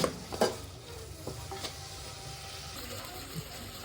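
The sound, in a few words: onions and curry leaves frying in a pan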